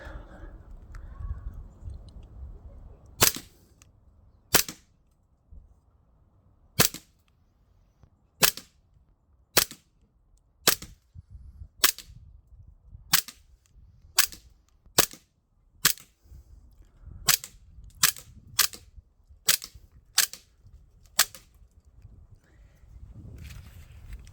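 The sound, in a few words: Umerex Glock 19 Gen5 air pistol shooting at targets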